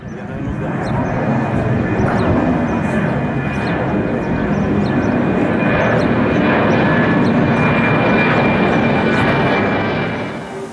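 A fixed-wing airplane roars overhead on approach to Faro airport in the Algarve, a loud, sustained engine rumble that swells and holds before easing slightly at the end.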